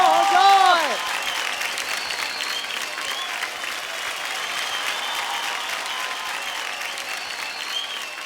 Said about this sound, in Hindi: मैम के लिए जोरदार तालियां हो जाए.